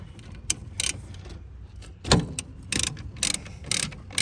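A socket ratchet works loose the rear brake caliper slider-pin bolts on a 2016 Ford Escape, giving several short bursts of close, rapid mechanical clicking with brief pauses between them.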